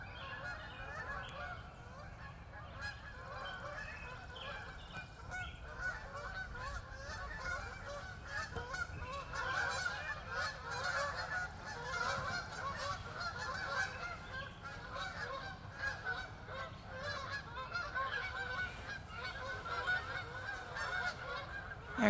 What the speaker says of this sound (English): Hear the geese? Here they come.